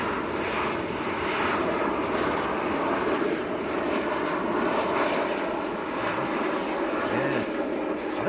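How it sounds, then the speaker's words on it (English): A Ryanair airliner coming in to land at Manchester Airport, its engines a loud, steady, broad roar that holds without a break from start to finish. "Good old Ryanair next to land."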